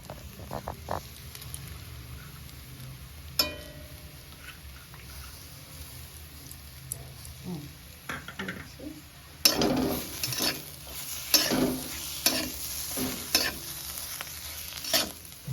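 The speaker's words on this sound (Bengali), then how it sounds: "এটাকে ভালো মতো মিলাই নিচ্ছি" Egg curry mixture with chopped coriander is stirred in a pan, the spoon scraping and tapping against the metal over a low sizzle, with louder bursts of scraping in the later half.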